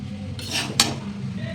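A spoon stirs salt, ground sugar and spice together in a cooking pot, making two brief scraping clinks against the metal over a low background hum.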